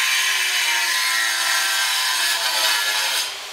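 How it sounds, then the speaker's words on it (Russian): Power tool noise from an apartment renovation in Sochi, a drill or angle grinder working on a hard surface, loud and continuous with a harsh, rasping grind that holds steady and eases slightly near the end. "И соседи совсем не рады, когда так активно работает дрель или болгарка."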